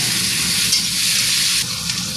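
Onion and tomato fry together in a hot pan, giving a loud, dense sizzle that hisses steadily throughout, close and alone with no voices over it.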